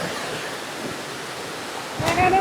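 A steady rush of water falling at a waterfall in Araku fills the air, broad and constant, with a brief sharper sound near the end.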